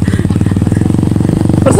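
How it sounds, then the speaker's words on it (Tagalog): A motorcycle engine drones in a steady, loud, rhythmic putter on a trip to waterfalls in Sultan Kudarat, heard close up without a pause over the whole stretch. "Bali, 4 na motor pala kami sila Ate Clarice na nauna na."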